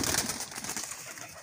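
Pigeons coo repeatedly at close range among a pigeon fancier's flying flock, soft throaty calls overlapping with faint background rustle and no clear speech.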